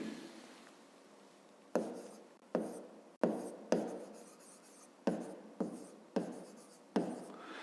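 Pen on paper as the answer to a fifth-grade maths exercise is written out: short bursts of scratchy writing strokes, each starting sharply and trailing off, close and clear against a quiet room, with no speech.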